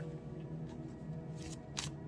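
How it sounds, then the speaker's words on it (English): A deck of tarot cards is shuffled close to the microphone, quiet riffling with a few sharp snaps of cards, heard over a low steady hum. "Let's get one more shuffle and see where this is going."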